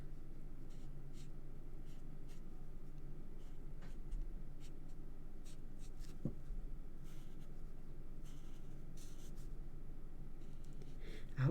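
Colouring on paper for a handmade card using the thin ends of light-coloured pens, with soft scratchy strokes in short repeated bursts, close and quiet with no talk.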